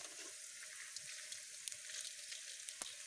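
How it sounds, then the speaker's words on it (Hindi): Coriander dropped into hot oil and ghee sizzles steadily, a soft continuous frying hiss with a few faint pops and no talk. "तेल घी जो है मेरा अच्छे से गर्म हो चुका था और अब डालूंगी मैं इसमें धनिया।"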